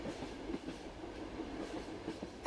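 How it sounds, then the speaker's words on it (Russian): A night train in the Alps, heard as a faint, steady rumble from inside the carriage, with wheels rhythmically clacking over rail joints and no talking. "Колеса мерно постукивают на стыках рельсов."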